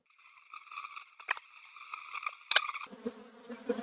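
Agitated honeybees buzz loudly around an open hive during an early-season inspection, a dense whining drone with passing individual bees flying close to the microphone, the pitch shifting as they dart by.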